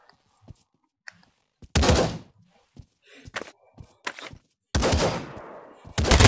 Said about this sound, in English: One-handed gun.